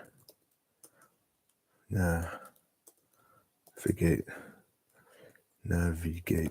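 A computer mouse gives a few faint, sharp single and double clicks in the quiet gaps between bursts of nearby talk.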